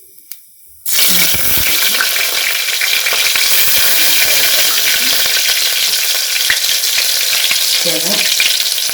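Chopped onion dropped into hot oil and ghee with cumin for Gujarati dal papad curry, a sudden loud burst of sizzling after a brief quiet moment, then continuous close frying with faint stirring.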